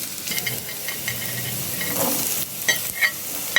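Onions sauté in two tablespoons of oil, a steady soft sizzle under intermittent scraping stirs and taps of a spoon against the pan, close and moderately loud with no talking.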